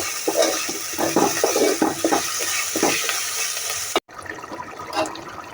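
Mutton biryani ingredients fry and sizzle in a pan with a steady crackle, joined by scattered clinks and stirring scrapes. A short break comes near the end, then the frying carries on, close and moderately loud.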